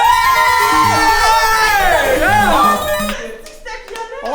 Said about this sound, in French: On s'applaudit tout le monde!